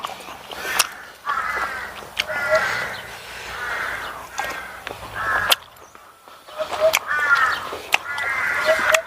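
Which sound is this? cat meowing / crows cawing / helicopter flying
crows cawing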